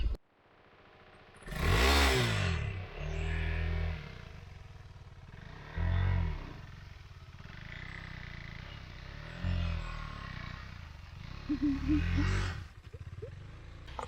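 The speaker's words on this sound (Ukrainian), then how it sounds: "Придбав собі новий мотоцикл." A new enduro motorcycle rides up and revs several times in short bursts, loud and close, with the engine settling to idle between throttle blips.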